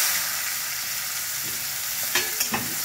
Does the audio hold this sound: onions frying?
yes